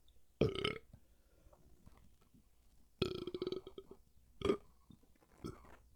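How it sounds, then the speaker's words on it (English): A person lets out several loud, guttural burps near the microphone, three or four separate bursts with quiet gaps between them, one long and rattling. "It's one of those burps that kind of turned into like almost a throw up."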